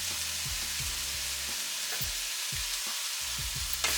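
Vegetable fried rice sizzles steadily in a hot pan as soy and hoisin sauce are added around it, a loud continuous hiss with repeated low thumps of stirring, no talking.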